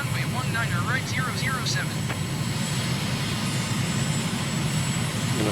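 Steady aircraft engine drone from a plane in Microsoft Flight Simulator, flying near Oslo, Norway, a constant loud hum under radio-style chatter and voices throughout.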